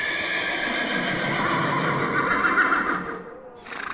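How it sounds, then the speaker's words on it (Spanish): A horse neighs with a harsh, metallic-sounding whinny, loud and sustained for about three seconds before tailing off, with faint clip-clop of hooves and no speech. "A lo lejos se escuchó un relincho metálico, como si un caballo tuviera un hierro en la garganta."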